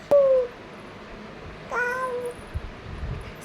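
A voice imitates a cat with two short, high meows, the second drawn out, followed by quiet shuffling noises.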